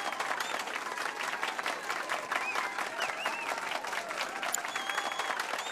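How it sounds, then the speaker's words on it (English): In Final Fantasy VII Rebirth, a concert audience gives a pianist a warm round of applause, a steady, moderately loud wash of many clapping hands with faint game tones sounding over it. "Now then, let's give our pianist a warm round of applause."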